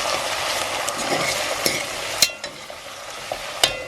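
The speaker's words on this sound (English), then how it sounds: "you want to go in again and stir" Vegan mince peri peri stirred in a pan, with a steady frying hiss and a few sharp scrapes and knocks of the spoon against the pan.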